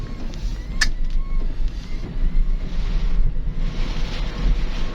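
Gusts of strong wind buffet and roar across the microphone in uneven surges, with a faint distant rush and a short sharp clack near the start.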